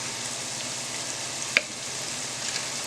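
Onions and peppers frying in a pan for Southern fried cabbage, a soft, steady sizzle with a single sharp crackle partway through and no talking.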